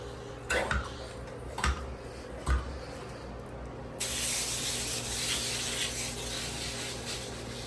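A houseplant mixture is sprayed onto potted aglaonemas and anthuriums. Three sharp trigger clicks come first, followed by a continuous close hiss of spray.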